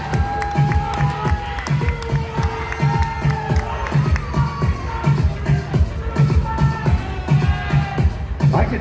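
A crowd at a motorsports bikini contest cheers and claps for the judges, a loud, dense roar with whoops and rhythmic clapping, plus shouting voices over a steady beat.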